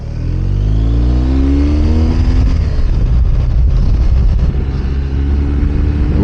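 A 2024 BMW K 1600 GT touring motorcycle with a quick shifter accelerating hard on a road in Austin, Texas: a loud, close engine rising in pitch through a gear change, then a rough, gritty roar as it pulls on.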